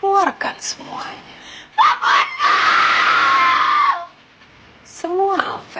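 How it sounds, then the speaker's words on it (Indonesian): A person screams loudly in a drama scene, one long sustained shriek in the middle after short gasping vocal bursts, with brief speech-like sounds around it. "Teriak"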